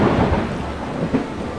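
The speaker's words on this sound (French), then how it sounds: "Un autre tonnerre retentit." A deep, broad rumble of thunder rolls under steady rain, loud and continuous with a swell near the end.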